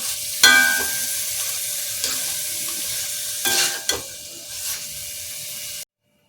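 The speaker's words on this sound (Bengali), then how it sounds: "এই যে এইভাবে চাপা দিয়ে দিয়ে কষাতে থাকলে তাড়াতাড়ি চিকেনটা কষানো হয়ে যাবে।" Chicken sautéing in a pan for a curry with coriander and curry leaves, a loud continuous sizzle with a few scraping knocks as the spoon presses and stirs, close by, ending abruptly.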